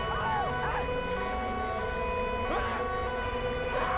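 Wailing ambulance siren in GTA 5, rising and falling in repeated sweeps at moderate loudness over a steady background hum, with no talk over it.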